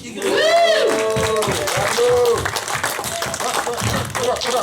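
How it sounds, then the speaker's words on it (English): A crowd at a speakers' club presentation event applauds, with loud whoops and shouted cheers rising over scattered clapping that continues as the voices fade. "give your loudest round of applause for Dr. Abu."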